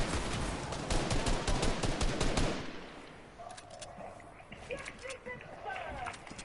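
Rapid video-game gunfire in dense bursts fills the first two and a half seconds, loud and close, then drops to quieter scattered in-game sounds with a few more distant shots while players talk.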